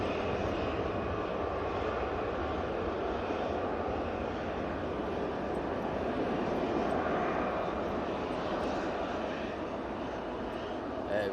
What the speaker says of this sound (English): And here we go, the Ryanair from Rome, and they are struggling to keep that runway centre line on.